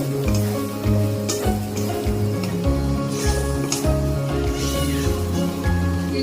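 Tilapia fish head curry sputtering in oil, a dense continuous sizzle with light stirring noises, loud and close with no speech.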